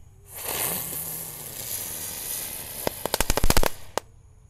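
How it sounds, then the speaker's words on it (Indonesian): A spinning lotus firecracker hisses and whooshes loudly for a few seconds at night, then a quick burst of sharp crackling pops ends it. "Di sini ada mercon teratai. Ini muter seperti gangsing guys, ada preteknya."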